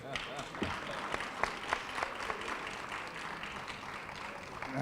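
A press-conference audience at the Palmetto Capital City Classic, a Livingstone versus Benedict college football matchup, claps quietly and continuously, with a spoken voice running over the distant applause.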